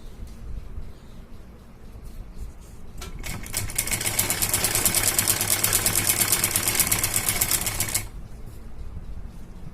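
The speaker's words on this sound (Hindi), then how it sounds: "इसके ऊपर फिर से सिलाई लगा देंगे" A sewing machine runs steadily for about five seconds, stitching along a folded fabric strip for a trouser-bottom or sleeve design, its fast rhythmic needle chatter loud and close amid quiet room noise before and after.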